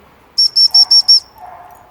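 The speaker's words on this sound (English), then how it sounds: "You will blow your whistle and then immediately give the dog the heaven thing." A dog recall whistle blown in five quick, sharp, shrill blasts in a row, loud and close, followed by a soft fainter sound.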